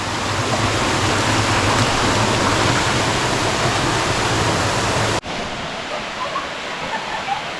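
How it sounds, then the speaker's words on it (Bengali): Udoytoy waterfall in Bandarban roars as a loud, steady rush of falling water up close, then abruptly drops to a quieter, more distant wash. "এই যে দেখেন উদয়তয় ঝর্ণার সামনে চলে আসছি এই যে এটা হলো উদয়তয় ঝর্ণা"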